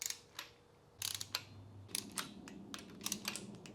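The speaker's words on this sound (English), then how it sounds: "now I'm gonna torque all these bolts to 80 inch-pounds" Torque wrench tightening timing cover bolts on an SR20DET engine, heard as faint, close ratcheting clicks and metallic ticks in irregular bursts, with no talk.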